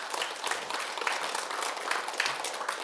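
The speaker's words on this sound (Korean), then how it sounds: "이분에게 큰 축하의 박수 부탁드립니다" An audience applauds steadily at a lecture-style talk, a dense, even wash of clapping that holds at a moderate level throughout with no voices over it.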